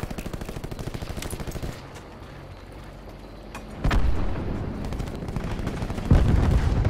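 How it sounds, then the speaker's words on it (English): Rapid gunfire rattles in Call of Duty Black Ops 4 Blackout duos mode, loud bursts opening the clip, a quieter stretch, then sharper heavy shots returning near the middle and again at the end. "They're both shooting at me."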